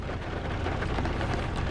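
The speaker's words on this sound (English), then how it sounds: "Rainy, dreary day." Steady rain falls throughout on a dreary day, a dense, even hiss with no pauses and no voices.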